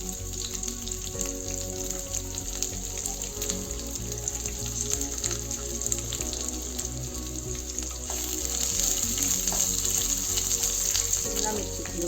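Onion frying in a pan with sesame seeds and curry leaves gives a loud, continuous sizzle that grows a little stronger toward the end, with faint clinks of stirring and no talking.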